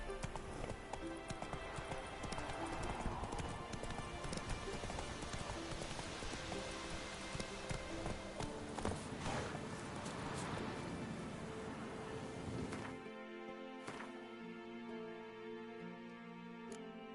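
Horse hooves clip-clopping at a steady gait in a PS4 video game, quiet and even, with a soft rain-like patter underneath and a brief change in the surroundings near the end.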